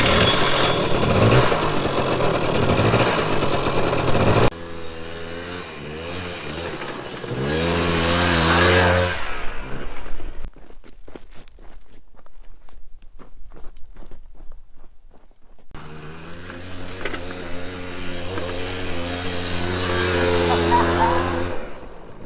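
A rare Honda trail dirt bike, ridden on hilly ground down a road, putting out a mid-range engine drone with harmonic bands. The drone rises and falls over the ride, and a brief quieter stretch of wind and rustle interrupts it midway.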